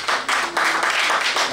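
Audience applause at an awards night in Cotonou, a dense burst of clapping from a crowd that swells in waves and stays loud and close throughout.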